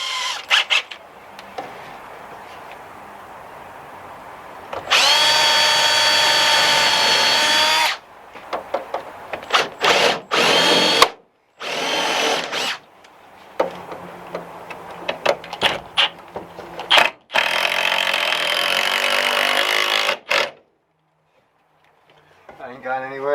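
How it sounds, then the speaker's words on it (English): Power drill boring holes into the body of a Vauxhall Vivaro short-wheelbase van during a camper conversion, in several loud sustained bursts of whining motor separated by pauses, clunks and handling noises, with people talking between bursts. "let's drill some holes."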